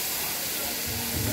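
A splash of water hits frying spices in a pan for a hilsa fish curry with eggplant and potato, giving a loud, steady, close sizzling hiss that lasts just over a second.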